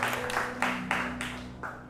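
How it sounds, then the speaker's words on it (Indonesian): A church congregation applauds, a dense wash of clapping that swells in a few waves and gradually fades. "kasih tepuk tangan bagi dia"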